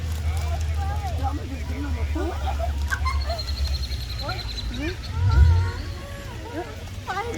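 Geese honk at a Toronto park by the beach, their calls scattered through the scene under steady chatter from nearby people and children, with a brief low rumble partway through.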